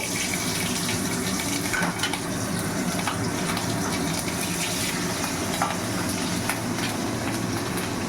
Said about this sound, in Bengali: এই যে এখন সর্ষে ফোড়ন দিয়ে দেব, এবার লঙ্কাটাও দেব।